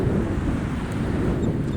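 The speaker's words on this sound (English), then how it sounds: "the ocean and some seagulls." A steady sea breeze buffets the microphone on a beach at Wildwood, New Jersey, with ocean surf washing underneath in a constant loud roar and no voices.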